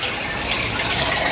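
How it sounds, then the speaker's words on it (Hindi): Water being poured into a cup while tea is made, a steady continuous splashing gush, close and loud throughout. "देखो मेरा पानी, चल डाल एक और कप"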